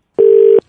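A single loud, steady electronic telephone tone sounds for under half a second as a call is cut off, alone with no speech.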